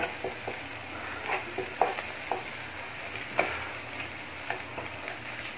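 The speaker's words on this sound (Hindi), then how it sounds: "तकरीबन 2 से 3 मिनट हमने इसको फ्राई करना है इसी अंदाज में।" Goat brain masala frying in a pan gives a steady sizzle, punctuated by intermittent scraping and stirring clicks from a spoon, at moderate level with no talking.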